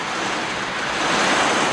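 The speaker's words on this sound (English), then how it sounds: "Wow, is it ever raining outside now?" Heavy rain falls outside in June as bonsai trees are pruned. It makes a steady, dense broadband hiss that stays even and fairly loud throughout, with no voices.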